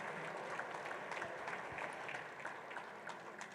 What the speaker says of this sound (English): How about a round of applause for the 11th Annual?